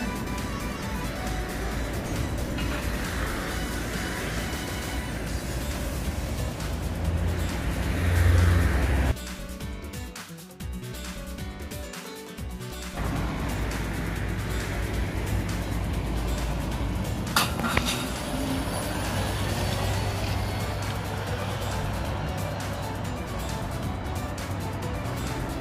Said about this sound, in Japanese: 今やってきた広島200か27で市内方面に発車しました